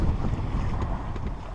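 Wind buffets the microphone over a steady rush of choppy sea aboard a sailboat under way in about 10 knots of wind off the Mediterranean coast, continuous and loud with no voices.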